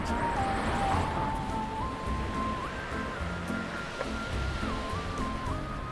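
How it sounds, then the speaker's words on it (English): Sea waves at Herne Bay, a seaside town, rolling surf as a continuous broadband wash, with a faint tonal whine drifting in pitch above it, no voices. "You can really hear the waves now."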